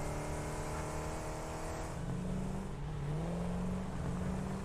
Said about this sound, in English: We just got run over by a truck.